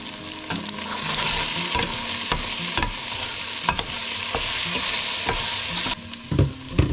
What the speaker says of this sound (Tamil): அடுத்ததா எடுத்து வச்சிருக்க எல்லா மசாலா தூள்களையும் சேர்த்து இதை நல்லா பிரட்டி